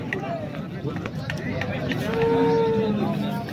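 A cow lows at a busy cattle market in Solapur, a drawn-out moo rising near the end over constant crowd chatter and nearby voices.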